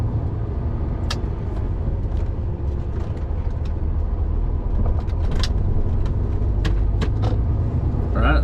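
HGV lorry driving on a road, its steady low engine rumble and road noise filling the cab, with scattered light clicks and rattles over the drone.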